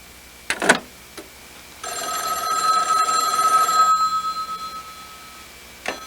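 Payphone at a remote desert phone booth ringing: a short burst of ringing, then a long sustained ring lasting about two seconds that fades out, with a faint click at the end.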